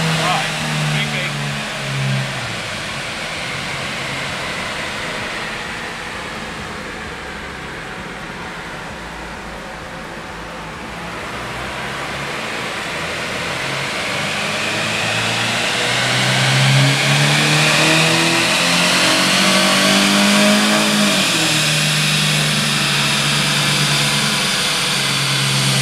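A 2012 Chevrolet Cruze LT with automatic transmission revs its engine up and down in close, sustained swells, the rise and fall repeating, while a person talks over it.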